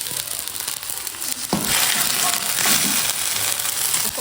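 Green onions sauté in a pan with a soft, steady sizzle; a sharp clatter near the middle is followed by louder frying and stirring noise that carries on to the end.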